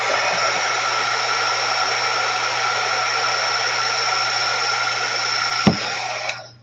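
A hair dryer blows steadily and loudly on acrylic craft paint, a continuous whooshing motor drone that runs unbroken for several seconds, with a brief knock near the end before it switches off.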